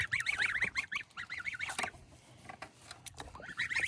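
Young geese, including gander goslings, honk and call in quick wavering bursts, several overlapping cries up close with brief pauses between them.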